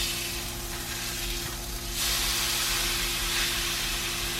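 London broil steak sizzling in a hot pan right after being flipped, a loud continuous hiss that jumps up sharply halfway through as the meat hits the surface, with no talking.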